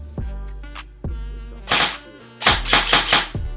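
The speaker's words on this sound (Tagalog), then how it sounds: "So putukin na natin. Semi. Full auto." An upgraded Double Bell airsoft rifle with a MOSFET fires close by, first single semi-auto shots spaced apart, then quick bursts of full-auto clatter, sharp and loud with no talk.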